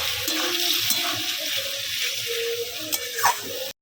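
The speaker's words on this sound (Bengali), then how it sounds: "পেঁয়াজের মধ্যে হলুদ গুঁড়ো দিয়ে দিয়েছি এখন নাড়াচাড়া করে ভালোভাবে কষবো" Onions with turmeric powder sizzle steadily in a hot pan as they are stirred and fried, giving a continuous hiss with a few scraping knocks from the stirring near the end.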